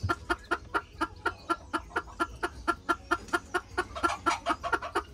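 A hen clucks beside her chick, giving a quick, regular run of short close clucks about four per second, growing slightly busier and louder near the end.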